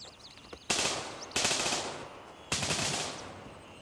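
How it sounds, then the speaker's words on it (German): Teammates firing automatic weapons in Gray Zone Warfare, heard as three separate loud bursts of rapid gunfire spaced about a second apart. Each burst trails off into a decaying echo, with no talk over them. "Das sind aber die Mates, die da rumballern."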